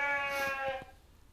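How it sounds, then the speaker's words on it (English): A single sheep bleats close by inside a barn, a clear harmonic call that fades out toward the end. "I get the added benefit of having my sheep here to keep me company."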